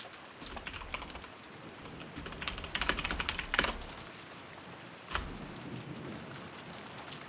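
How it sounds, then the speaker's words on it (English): Steady rain patters in a video game, a dense, even hiss of falling drops with a few sharper crackling bursts, fairly close and continuous with no voices. "I can't tell if it's actually the rain outside I'm hearing or if it's just the rain in this game"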